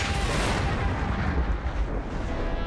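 A cartoon sperm whale lets out a deep, booming click, a loud sustained low rumble with a rough burst quality filling the whole moment, no talk over it.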